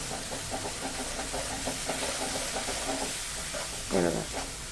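Ginger garlic paste stirred into hot frying oil for a potato curry, a steady loud sizzle with a brief spoon scrape near the end.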